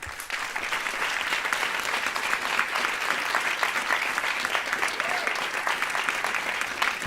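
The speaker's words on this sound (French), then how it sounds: "je voudrais qu'on les applaudisse très chaleureusement" Dense, warm applause from an audience at a prize-giving ceremony, many hands clapping steadily and close for around seven seconds with no letup or voices on top.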